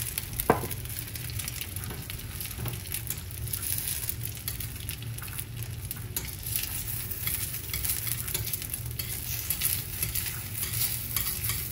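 An egg fries in a carbon steel pan, giving a steady, close sizzle with crackling throughout and a few brief clinks near the start; no one talks.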